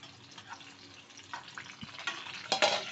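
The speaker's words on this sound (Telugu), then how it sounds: "పచ్చిమిరపకాయలు కూడా వేసేస్తున్నాను" Green chillies going into a frying pan of hot oil for mango pulihora, giving a faint, close crackling sizzle with stirring scrapes and a couple of louder bursts near the end.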